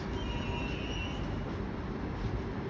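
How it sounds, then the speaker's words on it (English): A Melbourne suburban Water Gardens train passes close by at West Footscray station with a loud, steady rumble and wheel noise on the rails throughout. "There's that Water Gardens train again going here"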